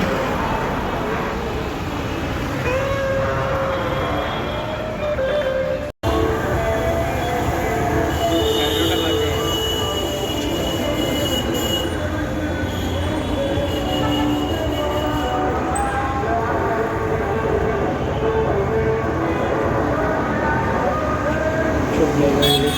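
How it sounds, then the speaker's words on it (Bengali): A metro train at a station rumbles and rolls close by with squealing wheels and a brief horn, a steady loud clatter lasting the whole stretch, with a sudden cut near the start and people talking in the background. "আর এই হচ্ছে আমাদের ট্রেন।"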